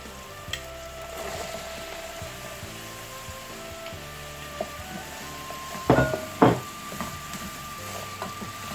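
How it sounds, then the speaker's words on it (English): Vegetables for chicken fried rice stir-frying in a pan, a steady hiss of sizzling with scraping stirs and a couple of louder clanks of the utensil against the pan near the end. "So I'm going to stir fry this for 3 minutes."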